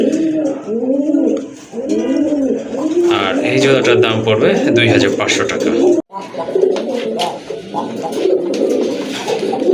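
A pair of pigeons, one a female, coo in repeated rolling bursts close by, while someone talks over them for much of the time.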